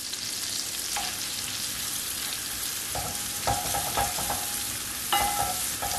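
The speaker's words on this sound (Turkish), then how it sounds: "Güzel bir soteliyorum." Chopped onion and garlic sauté in butter in a pan: a steady, soft sizzle with a few scraping stirs of a utensil, close by and with no voices.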